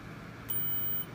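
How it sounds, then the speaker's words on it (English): A Darth Vader lightsaber with a Proffie board gives one short, high electronic beep as it enters its power menu. The tone is clear and steady over a faint low hum. "You hear that beep, now you're in the power menu."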